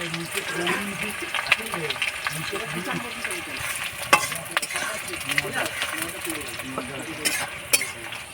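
Chopped onion and two bay leaves fry in hot oil, a steady sizzle broken by scraping and stirring clinks of a spoon against the pan, with a few sharper taps along the way.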